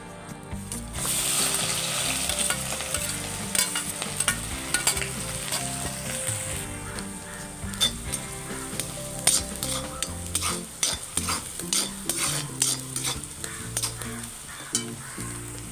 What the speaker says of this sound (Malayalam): നമുക്ക് ഈ എണ്ണയിലേക്ക് തന്നെ കറിവേപ്പിലയും ഉള്ളിയും പച്ചമുളകും ഇട്ട് മൂപ്പിച്ചെടുക്കാം